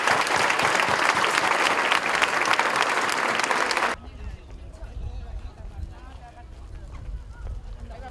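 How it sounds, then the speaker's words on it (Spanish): Dense, loud applause from an audience at a historical reenactment in Alquézar, a steady roar of clapping that cuts off abruptly midway, leaving quieter background murmur and voices. "pido un fuerte aplauso y continuamos con la visita."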